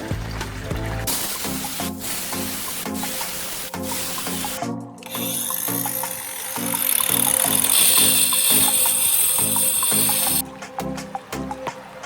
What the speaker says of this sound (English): So that needs to be ground down like so.